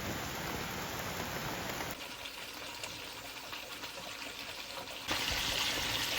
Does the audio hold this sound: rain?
yes